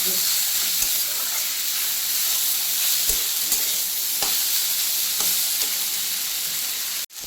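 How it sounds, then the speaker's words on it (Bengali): Kolmi (water spinach) greens fry in a pan with a constant close sizzle, broken by occasional soft scrapes as they are stirred, with no talking. "শাকটা একটু ঝরঝরা টাইপে ভাজা হবে"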